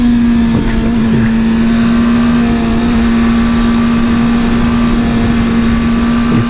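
A motorcycle engine, a Yamaha R1-type sport bike on sport touring tires, drones steadily at a held pitch while riding a canyon road, loud and close with heavy wind rush.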